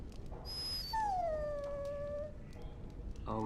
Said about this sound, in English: Oh, don't even start with the sad eyes.